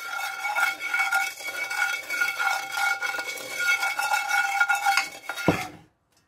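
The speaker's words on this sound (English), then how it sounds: "we're going to get our wooden spoon and we're going to mix all of this together in our legacy pot" Wooden spoon stirring split pea soup in a pot, a steady scraping and sloshing with faint clinks, close and alone, ending with a knock against the rim.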